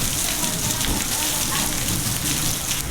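Heavy rain pours down in a Gujarat village in a dense, constant hiss of drops beating on surfaces. It stays steady and loud all the way through, with a voice faintly underneath.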